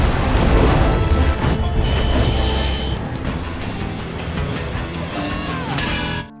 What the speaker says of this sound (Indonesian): Lalu guru keluar dan langsung menembak bulan